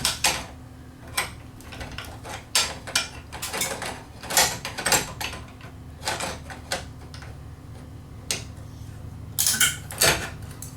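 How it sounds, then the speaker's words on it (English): Wrench working a bolt out of a Liftmaster Chamberlain garage door opener gear assembly, irregular metallic clicks and ratcheting knocks over a low steady hum, close and moderately loud, with no talk. "I work at removing the bolt using a wrench"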